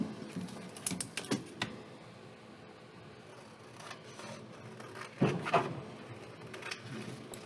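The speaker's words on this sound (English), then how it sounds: "I'm going to cut this in half." Fabric being cut in half with scissors for a pocket, heard as a few soft, close snips and rustles scattered over quiet room tone.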